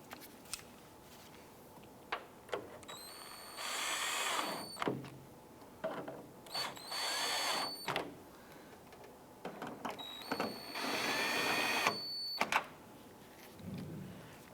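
Cordless power tool tightening nuts on the back of a 2001-2005 Honda Civic inner tail light, several short whirring bursts close by with quiet handling clicks between them.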